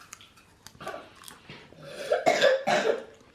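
A child coughs several times in short bursts, close by, with small throat sounds and breaths between the louder coughs.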